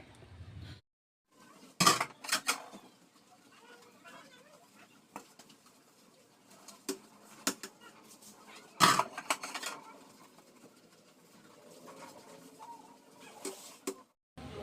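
Dishes, pots and cutlery being washed at home, with faint scattered clinks and clatters of utensils and sharper knocks of pans now and then against quiet background, close and sporadic.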